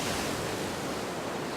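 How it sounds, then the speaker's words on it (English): Rushing water pouring out through a door in the game 999, a steady, dense roar of wash with no breaks, loud and close throughout. "The water that had followed him out of the room was rapidly pouring out of the door"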